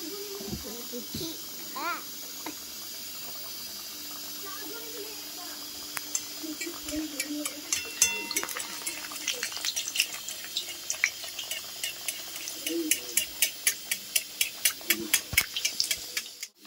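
Luchi puris made from flour and green banana go into hot white oil, starting with faint bubbling and building into dense, rapid crackling and sizzling, while a voice talks over it.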